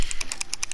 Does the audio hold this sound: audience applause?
no